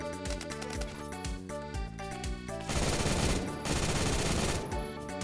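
Rapid automatic gunfire in the video game Phantom Forces, loud fast-repeating shots in quick bursts, then a denser sustained blast of fire before a brief pause and more shooting.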